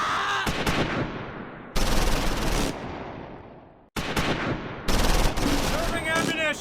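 Bursts of automatic gunfire and explosions from the WWII strategy game Close Combat 4, set in the Battle of the Bulge at Echternacht, loud, dense volleys with brief pauses between them, with some voice chatter mixed in.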